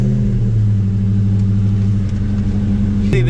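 A 2004 SVT Cobra engine runs close by with a loud, steady low rumble, then shifts sharply in pitch near the end as the throttle changes.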